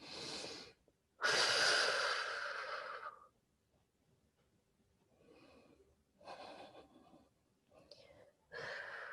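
Deep yoga breaths in a slow class setting: a long loud inhale, then softer exhales and breathy pauses, close and airy, with quiet stretches between.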